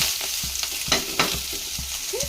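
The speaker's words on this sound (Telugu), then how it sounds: "డీప్గా ఫ్రై చేసుకొని పక్కన పెట్టుకోవాలి" Drumstick leaves deep-frying in oil make a continuous close sizzle, broken by quick stirring scrapes and soft utensil knocks, with no voices.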